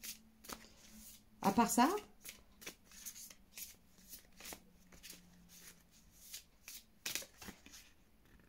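Playing cards are shuffled nearby in a quick riffle burst, followed by scattered light card flicks and handling taps. A person speaks softly in French over them.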